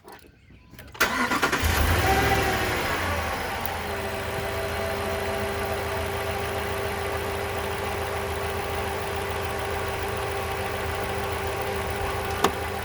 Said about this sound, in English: Let's start her up and see how she sounds.